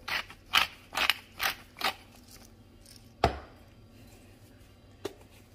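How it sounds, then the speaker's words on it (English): A pepper mill cracking black pepper, five quick, close, crunchy grinding twists in a row, then a sharp knock and one faint click in a quiet kitchen. "Cracked black pepper."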